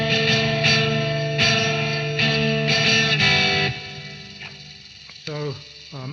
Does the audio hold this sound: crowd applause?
no